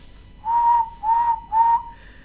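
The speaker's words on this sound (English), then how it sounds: "Henry whistled happily." Three steady, tuneful whistle blasts in even succession, each held about a third of a second, followed by a fainter higher tone; it stands for a cheerful steam engine's whistle, though it sounds like a person whistling, close and clear.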